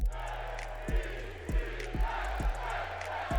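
A stadium crowd in the Madden 25 NFL football video game chants in a roaring, rhythmic wave, with deep, regular thumping beats under it, followed by a steady crowd din.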